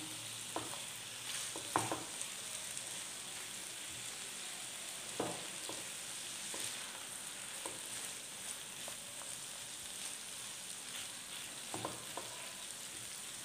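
Capsicum and paneer sizzle in a hot pan, with a constant soft frying hiss broken by occasional sharp scrapes and clinks as a spatula stirs the pieces.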